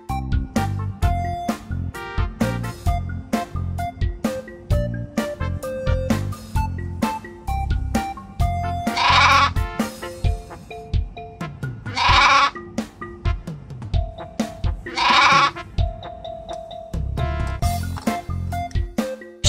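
Several loud bleats ring out at intervals over a bouncy rhythmic tune with plucked notes.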